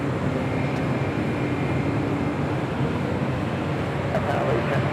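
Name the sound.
airliner departing LAX, flight heading back to Phoenix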